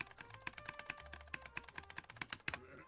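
Keys clack rapidly on a hand-built keyboard with a 3D printed frame, a close, steady run of sharp taps with a slightly scratchy, hollow character.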